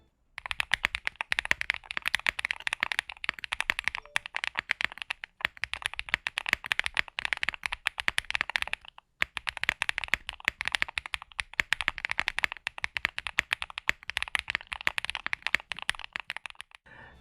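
Fast typing on a Qwertykeys Owlabs QK65 mechanical keyboard, dense crisp clacking keystrokes in quick continuous runs, close and loud, with one brief pause midway.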